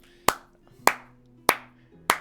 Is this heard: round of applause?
yes